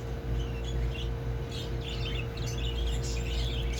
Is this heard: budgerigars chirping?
yes